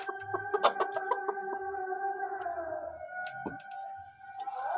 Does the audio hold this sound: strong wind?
no